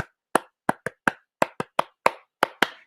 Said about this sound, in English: bigyan naman natin ng isang peace clap si Ate Nat.